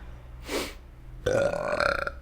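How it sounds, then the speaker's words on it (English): A loud, drawn-out belch goes straight into a close podcast microphone, a deep, rumbling burp that follows a brief breathy sound. "There's not a single episode of this podcast where I haven't burped in the microphone."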